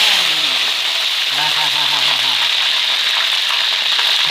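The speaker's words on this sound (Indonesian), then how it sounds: "Selanjutnya kita cemplungkan tahunya." Tofu dropped into hot oil crackles and sizzles loudly and steadily in a kitchen pan while a voice talks briefly over it.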